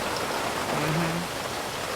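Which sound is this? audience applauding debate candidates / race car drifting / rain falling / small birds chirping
rain falling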